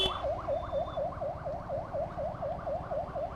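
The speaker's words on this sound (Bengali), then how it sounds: "এই অ্যাম্বুলেন্স দেখে একটাই কথা মনে আসে" An ambulance siren on a road, a loud, fast, rising-and-falling wail repeating steadily and close by, over a low engine and traffic rumble, with no talking.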